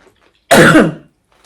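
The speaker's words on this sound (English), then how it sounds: "I'm still coughing post-COVID" A single rough cough from someone recovering from COVID, loud and close, bursts out once amid near silence.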